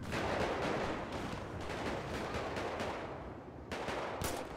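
Gunfire in GTA V during a shootout with police, a dense, continuous barrage of shots and blasts close by, with no talk.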